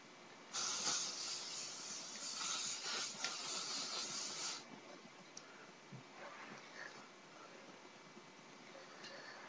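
A long continuous hiss of aerosol hairspray for about four seconds, close and bright, then quieter rustling and a few short faint bursts.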